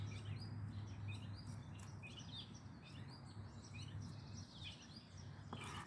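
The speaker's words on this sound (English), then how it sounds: "the birds are really happy this morning" Birds chirping on a morning porch, scattered high tweets and calls at a moderate distance over a low, steady background hum, faint and without speech.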